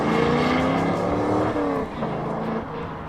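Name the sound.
Chevrolet Corvette engine on race track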